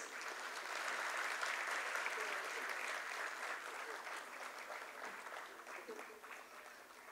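An audience at a school annual showcase applauds, a dense, sustained wash of clapping that stays fairly even and begins to thin slightly toward the end.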